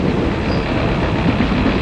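A long freight train pulled by GE AC400CW locomotives rolls past close by, a dense, steady rumble of wheels and rail noise with no break across the short stretch.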